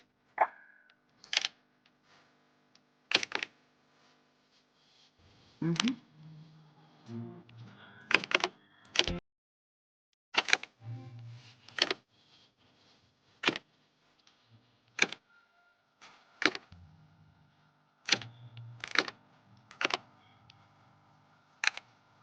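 Keys struck on a computer keyboard during a timed typing test, in slow, irregular single taps and short bursts with pauses between, close and fairly crisp with a quiet background.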